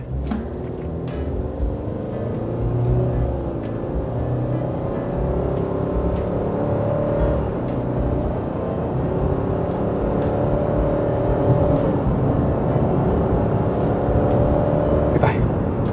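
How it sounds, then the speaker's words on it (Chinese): A 2023 Subaru Forester SUV in Sport mode accelerates from 0 to 100 on a narrow rural road, heard from inside as a steady engine drone that climbs in pitch over continuous road and wind noise. "刚刚用了这个 Sport 档 testing 它的0到100啦"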